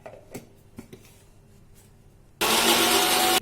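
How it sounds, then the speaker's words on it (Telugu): A mixer grinder powders a handful of cashew nuts with two spoons of poppy seeds, starting after a few faint clicks and then roaring loud and steady for about a second until the end. "ఒక గుప్పెడు జీడిపప్పు వేసుకోవాలి. గసగసాలు 2 స్పూన్లు. ఈ రెండింటిని పౌడర్ చేయాలి."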